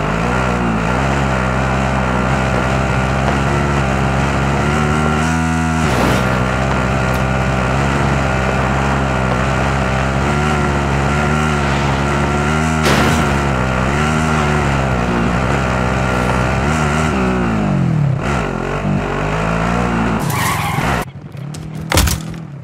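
A vehicle driven in Warzone, a loud continuous engine hum with shifting pitch as it speeds up and slows, tire skids and bumps, ending in a few knocks and a brief cutoff.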